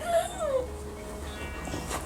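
A young puppy with a bandage whimpers indoors, soft high whines sliding downward in a couple of short cries, fairly faint against room noise.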